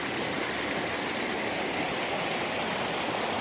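Beaver Brook, a mountain stream at Kinsman Notch in New Hampshire, rushing steadily with a dense, continuous hiss of flowing water, close and loud, with no voices.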